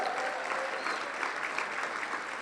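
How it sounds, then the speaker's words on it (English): A crowd at a literary event in Dublin claps steadily throughout, a dense, even wash of applause with no break and no voices rising above it. "Give Michael a round of applause, please."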